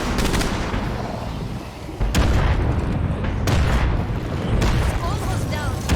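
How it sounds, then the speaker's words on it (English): Mortar strike explosions in a video game shooting mission come as repeated heavy booms and rumbling blasts over continuous loud battle noise, with a voice talking over part of it. "Send in a mortar strike."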